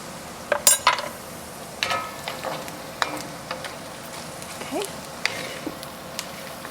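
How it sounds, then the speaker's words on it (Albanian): Onions sizzling in a pan with chili pepper, a steady frying hiss broken by a few clinks and stirring scrapes near the start, close and fairly quiet. "Do ta lëm që të skuqet pak, ta pi komplet atë ujin qepa"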